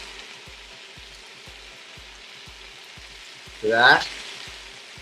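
Toasted sesame oil sizzles steadily in a hot pan of purslane and broccoli stir fry, a constant close hiss under regular ticking, with a short voice cutting in near the end.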